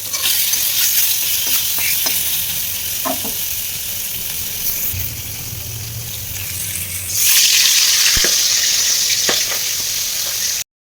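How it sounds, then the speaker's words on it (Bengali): Tangra fish frying in a pan makes a loud, continuous sizzle that swells brighter partway through, with occasional knocks and clatter of utensils nearby. "আমি কিন্তু মাছ ভাজাগুলো বসিয়ে দিয়েছি"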